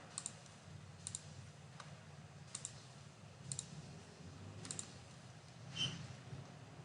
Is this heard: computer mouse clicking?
yes